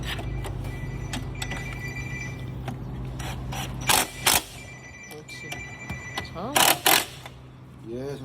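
Ratchet wrench clicking while a battery hold-down is tightened during an AGM battery replacement on a Peugeot 5008, with repeated mechanical clicks, a few loud bursts, and voices talking in the workshop.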